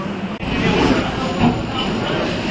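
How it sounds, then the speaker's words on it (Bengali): A train pulls into a station with a loud, continuous rumble and hiss of wheels on rails, close by, with a brief dip partway through. "আমাদের ট্রেন ঢুকে গেছে, আমরা ভেতরে ঢুকবো।"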